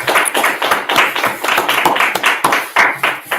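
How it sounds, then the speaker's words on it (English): Scattered clapping from a small audience at a gathering of the Israelite School of Universal Practical Knowledge, with uneven, sharp claps continuing steadily and close by. "let's clap it up"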